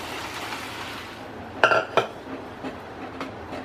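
Cooked dal tipped into sautéed masala in a pot and stirred, with a low background hiss and a couple of sharp metallic clanks of a spoon against the vessel midway.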